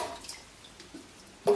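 Water drips softly from a gravity water filter unit being cleaned, a few faint, irregular drops falling over a quiet background, with one slightly louder splash at the end.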